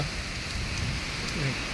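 Rain pours down during a sudden summer windstorm, a dense, steady roar of drops on surfaces heard close and loud, with no talk.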